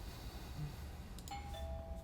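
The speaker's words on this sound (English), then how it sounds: "I should just ring the doorbell, see if he answers." Doorbell in a horror video game chiming two clear tones in succession over a steady low ambient hum, with no voices.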